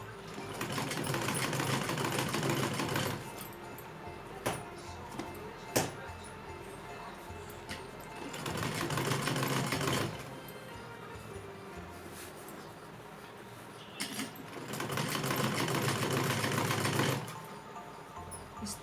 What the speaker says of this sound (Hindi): इसे मैं किनारी किनारी यहाँ सिलते हुए जा रही हूँ।